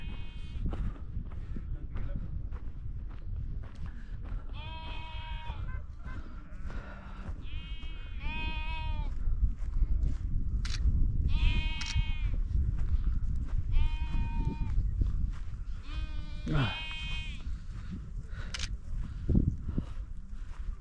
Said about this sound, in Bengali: সামনে ভেড়ার পাল, সেই ভেড়ার পালের মধ্যে দিয়ে আমরা যাচ্ছি।